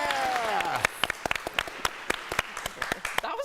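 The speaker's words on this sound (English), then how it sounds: "That was a big round of applause." A studio audience on a morning talk show breaks into applause, scattered claps trailing off into sparse individual claps, heard at moderate level with some faint voices.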